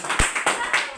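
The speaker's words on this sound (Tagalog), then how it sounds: "tuloy po natin yung palakpak" A meeting audience claps during a compensation program presentation, a few loud, sharp bursts of handclaps in quick succession, close and fairly dense, with a voice murmuring faintly underneath.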